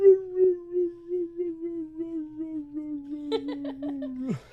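A puppy howls in one long sustained, slightly wavering tone lasting about four seconds, rising into a brief yip-like break near the end before cutting off, with faint background murmur.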